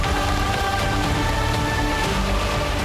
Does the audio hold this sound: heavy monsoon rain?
yes